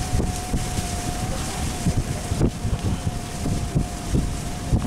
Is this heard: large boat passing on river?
yes